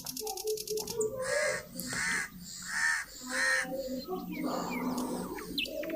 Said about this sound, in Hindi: परिंदे दरख्तों पे दूर से चहचहाने की आवाज़ें आ रही हैं।